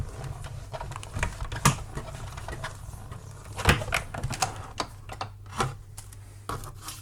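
Hand crank of a die-cutting machine turned to make a paper envelope, a steady run of small clicking, ticking mechanical taps over a low hum, close and fairly quiet.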